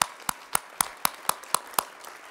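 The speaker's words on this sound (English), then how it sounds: "I think they deserve a great big round of applause." Audience at the 2013 Innovation Summit closing remarks claps in a steady, evenly spaced rhythm, with about eight sharp, close claps in quick succession and no talking.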